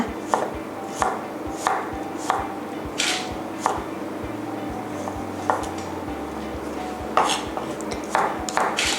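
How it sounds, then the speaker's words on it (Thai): Rhythmic knife chops slicing garlic on a cutting board, sharp and close, repeating at a steady pace with a few quick bursts near the end. "สำหรับกระเทียมนะคะ ก็จะต้องนำมาหั่นแว่นนะคะ"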